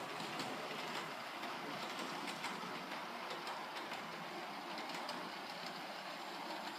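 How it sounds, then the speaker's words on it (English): A Hornby Santa's Express model steam train crossing points on a layout, its wheels giving a steady, fairly faint clickety-clack rattle with no talk. "I have to slow the loco down to be sure it's going to get across those points"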